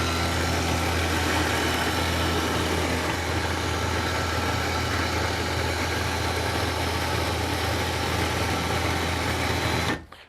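A Honda outboard motor on a catamaran idles as a loud, steady, close drone that holds evenly throughout and cuts off abruptly right at the end.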